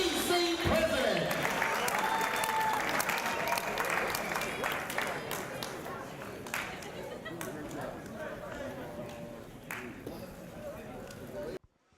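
Crowd at a WBC boxing tournament applauds, a steady dense patter of clapping that gradually softens over about twelve seconds before cutting off, with faint chatter underneath.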